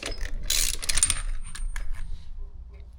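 A harmonic damper installation tool is loosened on an LS engine during a Fluidampr damper install on a Corvette, giving a close burst of sharp metallic clicks and ratcheting rattles that taper into quiet.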